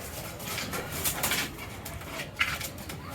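Pigeons coo inside a pigeon house on a cold, overcast day, soft repeated low calls layered over a steady close hiss of ambient noise, with no voices.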